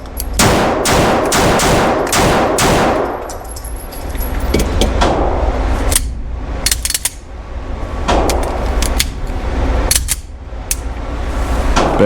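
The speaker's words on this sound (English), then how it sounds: "Let's put some more rounds down range." Staccato XC pistol fired downrange at a range, a rapid string of sharp, loud shots in the opening seconds, then scattered single reports and clatter over steady background noise.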